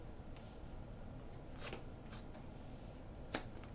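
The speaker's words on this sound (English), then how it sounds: "So let's take out the rest of these cards." Tarot cards slid out and handled, a few soft papery swishes and flicks against a steady background hiss, faint and close.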